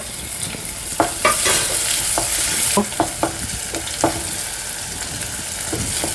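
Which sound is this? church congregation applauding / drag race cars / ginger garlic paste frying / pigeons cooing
ginger garlic paste frying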